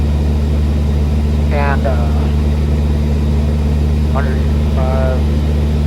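A small airplane cruising at 2,200 RPM at 1,200 feet: a loud, steady engine drone with a strong low hum fills the whole span, while a voice speaks briefly over it twice.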